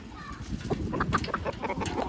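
A bunch of chickens on a farm cluck softly in scattered bursts at moderate distance, mixed with low background murmur.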